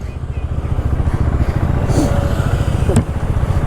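A KTM Duke 390 motorcycle, just push-started in second gear in cold weather, runs with a low, even engine thrum close by while someone talks over it.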